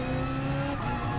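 Race car engine in a PS4 racing game, a loud continuous high-revving drone held steady throughout, with no talk.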